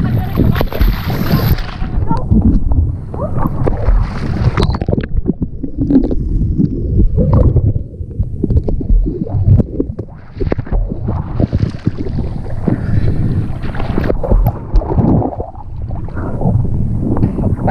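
A motorboat engine runs as the boat circles on the water, a loud, close, continuous low rumble with wind buffeting the microphone throughout.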